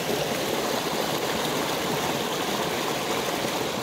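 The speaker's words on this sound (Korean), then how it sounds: "폭포 소리, 물소리가 아, 정말 좋습니다." Mountain valley stream and waterfall flowing in a shaded gorge, a close, loud, continuous rushing and gurgling of water with no voices.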